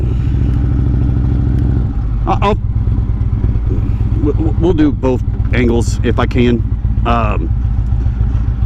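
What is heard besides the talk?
motorcycle engine while riding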